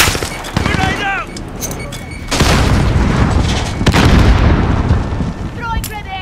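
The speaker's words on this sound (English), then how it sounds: "Grenade out!" A grenade explodes in Call of Duty: Modern Warfare, a loud booming blast with rolling gunfire around it, while voices shout over the battle.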